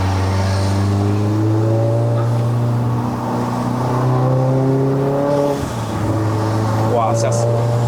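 A Stage 2 tuned VW Golf R MK7 revs hard on a mountain road, its engine note climbing in smooth sweeps, dipping sharply at a gearshift and rising again, loud and close, with people talking over it.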